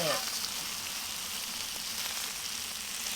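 Bacon frying on a PitBoss flat top griddle outdoors on a small patio, giving a steady, dense crackling sizzle that holds close and even throughout without talk.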